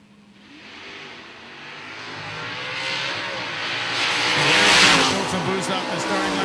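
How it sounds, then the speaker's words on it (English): A 1987 Mustang drag car with a naturally aspirated Ford big block engine races past, its roar building steadily to a loud peak before easing slightly, with a commentator talking over it. "Bill Fowler in the 87 Mustang with the big, naturally aspirated Ford big block in it."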